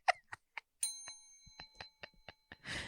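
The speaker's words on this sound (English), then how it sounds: "As I ring a bell." A bell rung once with a clear ringing tone that sustains and fades, followed by several sharp knocks and clatters, then a burst of noise at the end.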